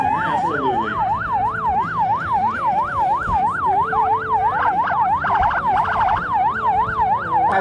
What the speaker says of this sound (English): let's just add some sirens to the mix now